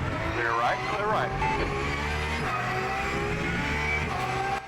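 Race cars run side by side in the sim racing game Le Mans Ultimate, a steady roar of engines with brief tire squeals and shifting pitches, while a voice talks over the action.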